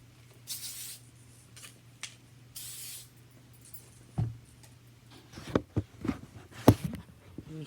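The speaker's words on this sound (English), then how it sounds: "We're going to hairspray it a little bit" Hairspray misted onto styled hair in short bursts, a few soft hissing sprays early on, followed by scattered clicks and handling noises, quiet and close.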